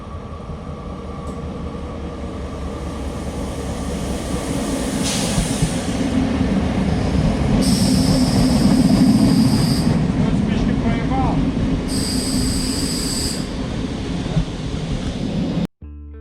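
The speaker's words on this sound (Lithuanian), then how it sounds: "Taip, mes esam traukinių stoty, laukiam traukinio." A train runs through a railway station in the rain, with a steady loud rumble of rolling rail cars and two bursts of high wheel squeal, fairly close, lasting throughout before cutting off abruptly.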